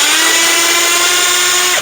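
A power drill runs at a steady high-pitched whine while backing T15 screws out of Ford car trim, loud and close, continuous for nearly two seconds before cutting off abruptly.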